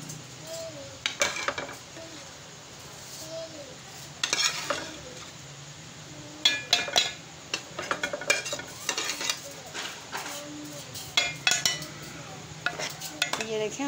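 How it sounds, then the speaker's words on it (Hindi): Fried okra tipped into a pan with onions for bhindi salan and stirred, with a low sizzle under repeated scraping and clanking of a metal spoon against the pot in irregular bursts, up close. "और हम इसमें भिंडी ऐड कर रही हैं, जो फ्राई हुई भिंडी है हम उसमें ऐड कर रहे हैं। साथ साथ हम इसको मिक्स भी करेंगे।"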